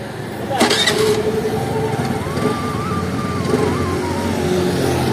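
A vehicle engine cranks and catches after a short clatter, then settles into a steady idling rumble up close, with a faint tonal whine drifting through the middle.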